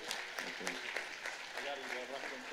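Scattered clapping from a small group, with a voice speaking over it.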